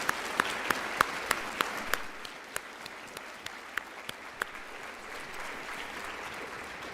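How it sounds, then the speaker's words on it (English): Audience applause for veterans at a school district Veteran's Day program, a moderate steady patter of many hands clapping in a room for several seconds, with a few sharper individual claps standing out near the start, no talking. "let's give another round of applause"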